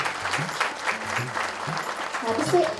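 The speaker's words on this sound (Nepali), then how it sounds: "हामी फेरि ताली बजाएर उहाँलाई हार्दिक बधाई" An audience at an ashram annual day function claps steadily and fairly close, a dense patter of applause lasting throughout, with a voice speaking over it.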